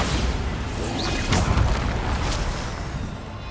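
A Bombarda blasting spell in Hogwarts Legacy goes off with a deep boom and a crackling burst near the middle, surrounded by whooshing magical effects and low rumble.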